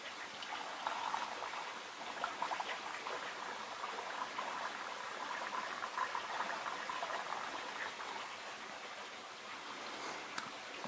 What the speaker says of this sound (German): Und das Ganze wieder mit Doppelkorn auffüllen.